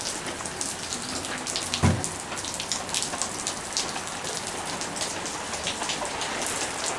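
Steady rain falls outdoors, a dense, even patter of drops on surfaces close by, with one brief louder knock partway through and no voices.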